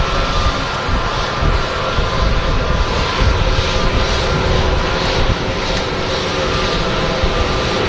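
A Pratt & Whitney aircraft engine at Manchester Airport, heard as a loud, steady, close broadband roar that holds for the whole stretch without a break.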